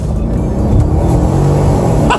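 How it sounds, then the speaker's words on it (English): A 578-horsepower car, either a Mercedes CLS or a BMW 650, pulls hard under acceleration. Its steady, loud engine drone is heard from inside the cabin, with no talking. "578 horsepower available to me just under my right foot."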